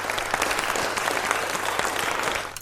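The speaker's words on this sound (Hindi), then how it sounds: "तुरंत से मैं पहले बजाऊंगा बहुत सारी तालियां डॉक्टर साहब के लिए।" Moderate applause from a small audience, with crisp individual claps in an even patter that fades toward the end.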